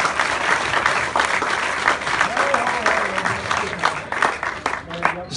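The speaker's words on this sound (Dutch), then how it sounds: "Mag ik een geweldig applaus, dames en heren, voor het podium van de nieuwelingen met de nieuwe kampioen" Sustained applause from a crowd at a Dutch national championship cycling podium ceremony for the newcomers category, dense clapping throughout with some voices mixed in, loud and close.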